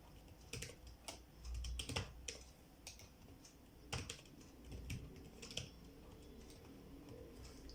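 Quick, irregular clicks of fingers typing on a computer keyboard, close and fairly quiet, arriving in short bursts with brief pauses and no voices.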